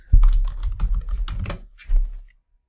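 Brisk keystrokes on a computer keyboard as a note is typed into an eBook Central page, a close, clattering burst of about two seconds broken by a brief pause before a final few taps.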